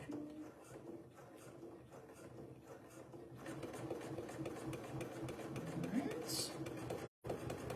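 A Janome domestic sewing machine stitches steadily with Tex 35 thread, a continuous mechanical whir that picks up speed partway through, drops out for a moment near the end, then resumes.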